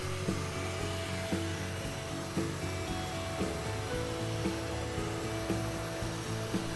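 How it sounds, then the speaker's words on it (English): Heat gun blowing as vinyl is heated and rolled onto an exterior wall test sample, a continuous whooshing roar with faint rhythmic rubbing underneath. "Start applying heat in the center of the sample and roll from the center out to the edges, following closely behind the heat gun."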